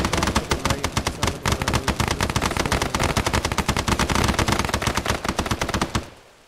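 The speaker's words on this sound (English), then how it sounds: "Enemy fire!" Rapid automatic gunfire in a multiplayer shooter game with dinosaurs and zombies, loud and continuous bursts for about six seconds before cutting off abruptly.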